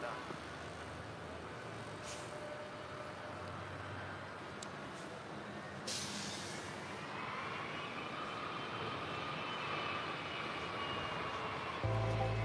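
A jet aircraft at LAX during plane spotting rumbles and roars at a distance, its engine tone slowly rising and sweeping in pitch as it moves. Faint background noise runs throughout, and a brief thump comes near the end.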